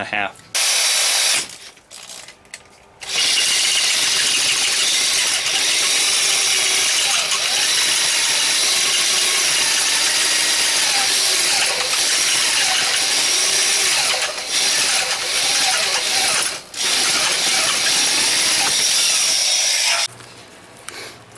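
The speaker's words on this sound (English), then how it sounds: "now that I have the holes drilled on my PVC pipe" A 1.5-inch hole saw on a power drill cuts through PVC pipe with a loud, steady whining grind lasting most of the time, briefly dipping at a few moments, starting after short pauses and ending abruptly.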